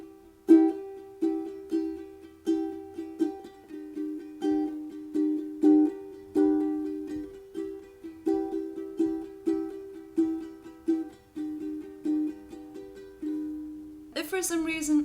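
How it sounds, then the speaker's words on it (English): Strummed guitar plays the intro of a song, even rhythmic strums with chords ringing steadily for the whole passage, fairly clear and close, ending in a brighter burst of strumming. "So when you play the intro, it should sound something like this."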